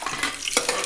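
Peanuts dropped into hot oil in a pan for khichdi, a short close sizzle and stir with a brief clink of the pan, no voices.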